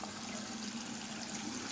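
Canvas axe sheath dunked into a liquid wax treatment, giving a steady, close watery wash and trickle with a faint low hum beneath and no talking.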